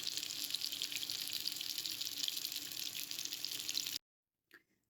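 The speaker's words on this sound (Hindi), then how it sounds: "ये जी हो रहे हैं मेरे पास फ्राई।" Chapli kababs made of beef fry in a pan with a steady, close, broadband sizzle that keeps going for about four seconds and then stops abruptly, leaving near silence with one faint brief sound after it.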